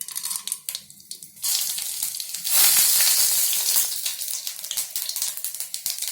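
Urad dal and mustard seeds drop into four tablespoons of hot oil in a kadai, breaking into a loud, bright crackling sizzle that settles into steady popping and spitting up close.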